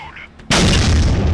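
A single loud, close gunshot with a sharp crack and a long rumbling tail goes off in the VR shooter game Battle X.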